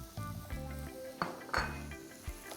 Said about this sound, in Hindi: एक बार इसे मिक्स करते हैं।